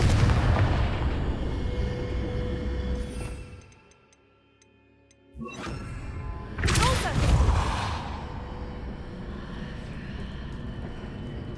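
A Confringo fire-blast spell in Hogwarts Legacy, a sharp booming burst that cuts through dense game ambience after a brief lull, followed by rumbling debris and crackle.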